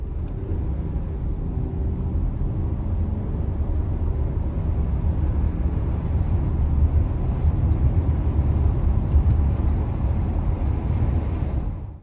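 A 1998–2005 Lexus GS300 engine pulls under throttle as the automatic climbs through its gears, a steady low drone that builds gradually and then cuts off at the end, heard alone without talk.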